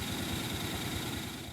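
A cheap used quad ATV runs on low-grade 82-octane fuel with its choke on, giving a steady, close, rumbling idle with a buzzy vibrating texture and no talk.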